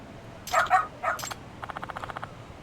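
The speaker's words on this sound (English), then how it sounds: "a cute dog" A small dog in the video game Lost Judgment gives a few quick yipping barks, then a fast run of lighter rhythmic yaps, fairly clear against a quiet background.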